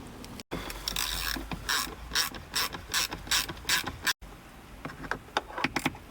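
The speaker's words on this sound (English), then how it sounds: "So we've just put the screw in." A ratchet tightens a bolt on a Mercedes in a garage, giving loud, close clicking strokes in repeated rhythmic bursts, with two brief cut-outs and a few sharper clicks near the end, with no talking.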